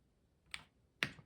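Two crisp key presses on a Mechlands Blade 75 mechanical 75% keyboard, close and quiet, separated by about half a second in an otherwise silent room.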